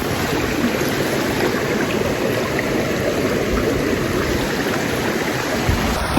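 A snowy winter creek flows steadily near a waterfall, its broadband rushing water close and continuous throughout with no voices.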